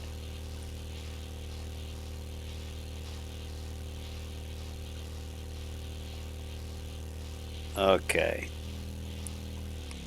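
A vehicle engine idles steadily in the survival game 7 Days to Die, a continuous low hum with a rough, strained tone, joined briefly near the end by a short burst of speech.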